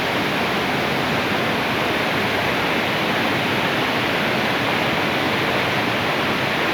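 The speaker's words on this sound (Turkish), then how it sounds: "Evet şelale görüntüsü." A steady, dense roar of falling water from Darende Waterfall in Malatya, Turkey fills the scene without pause, broad and hissing, loud and constant with no voices.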